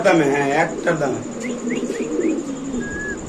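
Pigeons coo and chirp at a pigeon market, with several short calls and a longer trill rising over steady crowd chatter and someone talking close by.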